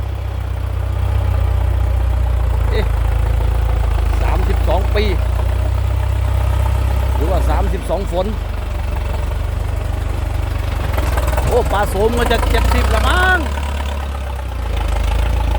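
The 90 hp, non-turbo engine of a 32-year-old Ford 6640 tractor idles out in a rice field, a constant heavy low thrum close by, with men chatting over it throughout.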